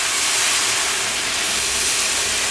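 Milk poured little by little into hot semolina halwa in a pan sets off a loud, continuous hiss and sizzle, steady and close with no talk.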